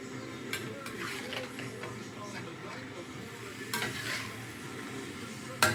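Chicken stir-fry with asparagus and cashews sizzling steadily in a hot pan, a dense continuous hiss with occasional sharper crackles and a faint clink at the end.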